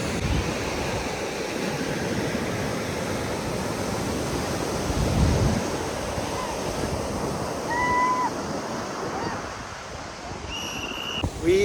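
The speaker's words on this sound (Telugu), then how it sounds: "ఈ ప్యారడైజ్ బీచ్, దీన్ని గోల్డ్ శాండ్ బీచ్ కూడా అంటారు." Ocean surf at Paradise Beach, also called Gold Sand Beach, in Pondicherry, rolling in as a steady, loud wash of breaking waves with gusts of wind buffeting the microphone and a brief higher tone near the end.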